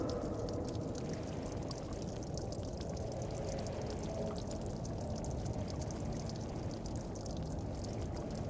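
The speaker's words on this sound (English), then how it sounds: "There's water!" Water pours steadily in the video game Where Winds Meet, a continuous dense splashing rush at an even level from start to finish, with no talk over it.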